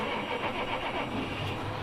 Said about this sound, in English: Starting the machine up as well, you can hardly notice that the engine is even running.